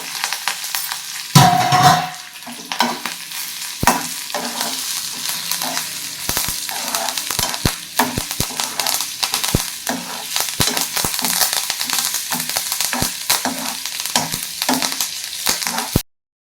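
Coconut pieces, dried red chillies, cumin and coriander seeds frying in a pan while being stirred for a traditional sardine fish curry. Sizzling runs throughout with frequent sharp scraping clicks of the spoon, and a loud burst as the ingredients hit the oil.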